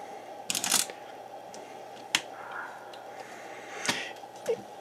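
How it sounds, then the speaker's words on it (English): A film camera's shutter release and film advance give a few sharp mechanical clicks and a brief ratcheting wind, spaced out against quiet room tone with no talking. "hitting the shutter release button activates the shutter, and then you advance the film a frame,"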